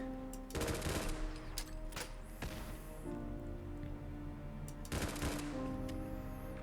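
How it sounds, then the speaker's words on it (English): Grenade launcher fire in the Fallout 4 game: several sharp bursts and a dense rapid volley near the start, then another loud cluster of blasts later, all close and punchy over a steady game backdrop. "And it's a grenade launcher."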